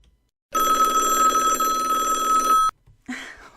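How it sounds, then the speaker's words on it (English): A house telephone bell rings in one loud, sustained metallic burst of about two seconds, then stops, followed by a short voice. "What's with the telephone today?"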